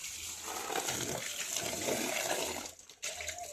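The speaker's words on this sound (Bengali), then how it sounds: "তো ডেকচিটা ভালো করে ধুয়ে নিল" Water gushes and splashes steadily while a cooking pot is rinsed and washed outdoors in a village, a continuous close wash of running water with a brief dip near the end.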